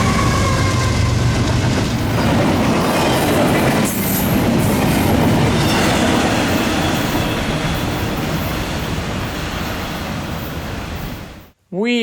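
A train rolls in loud and close, a dense rumble of wheels and clatter that fills the whole stretch, with a squeal of wheels near the end.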